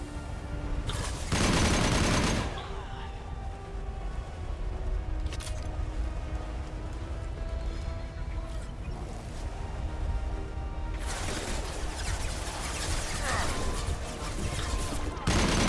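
Sustained gunfire from Mass Effect Legendary Edition 2 rattles on for about fifteen seconds, with louder bursts near the start and end over a steady bed of game noise.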